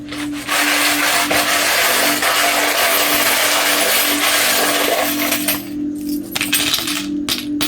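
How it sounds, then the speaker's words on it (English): Loud, continuous rattling and clinking of a pile of many small hard charms being shuffled together, with a steady hum underneath, going quiet briefly near the end. "this is going to get loud. So please turn it down. If this is going to hurt your ears, I'm just going to shuffle up some charms"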